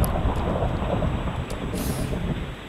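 Thunder and a lightning strike in a Minecraft game during The Walls event: a continuous low rumble with rain-like hiss, a brighter crackling burst breaking through about two-thirds of the way in.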